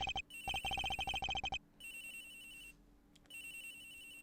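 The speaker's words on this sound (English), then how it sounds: "Agent Hicks' phone. It's ringing from nowhere, sir" Agent Hicks' mobile phone rings in Ace Attorney Investigations, first as a rapid burst of tonal ringtone pulses and then as a longer, quieter repeating tone.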